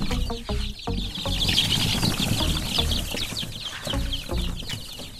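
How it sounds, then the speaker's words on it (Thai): Young chickens from a nursery coop cluck and squawk while being caught and separated by size, with bursts of flapping wings, close by and busy throughout. "วันนี้ก็จะมาแยกลูกไก่นะครับรุ่นใหญ่ออกนะครับ"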